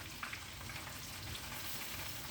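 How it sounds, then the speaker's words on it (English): Food seasoned with CKD Louisiana all-in-one seasoning fries in hot oil, a dense, even crackling hiss that holds steady throughout at a fairly quiet level. "It's getting its fry on now"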